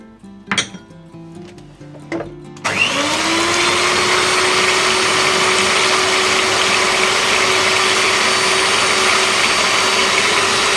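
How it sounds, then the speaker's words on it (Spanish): An electric mixer whirs into a steady, loud high-pitched drone as it beats eggs for an Afuega'l Pitu cheesecake, following a few clinks of utensils against a bowl. "lo primero que hacemos es poner los huevos a batir"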